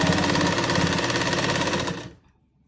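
A sewing machine stitches pleats into a salwar, a close, fast, steady mechanical whir that runs for about two seconds and then stops abruptly.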